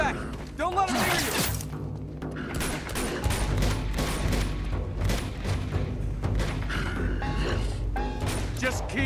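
Rapid video game gunfire in a shooter with bad guys and yetis, dense bursts of shots and booms running continuously under a loud, busy mix with talking over it.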